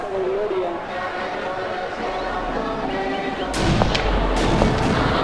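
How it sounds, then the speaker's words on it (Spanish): Gunshots crack out in an open square in front of a cathedral, a few sharp broadband bursts from about three and a half seconds on, rising over a steady crowd murmur and babble. "Han sonado unos disparos."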